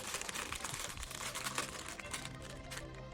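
A Hot Wheels Mystery Models plastic bag being opened, giving a steady, close, quiet crinkling and rustling of thin plastic for a few seconds.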